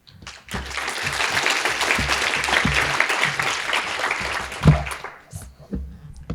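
Applause from a conference audience after a lightning talk at PyData LA 2019: steady, dense clapping from a full room that swells quickly, holds, and then tapers away near the end.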